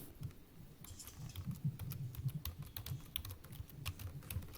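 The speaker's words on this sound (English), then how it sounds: "And I am typing the name of the person." Rapid typing on a computer keyboard, close and clear, with irregular bursts of key clicks and brief pauses.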